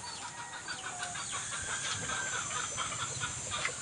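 Gamefowl roosters crow and cluck on a game farm, moderately close, over a steady outdoor background hum that sounds faintly like an engine.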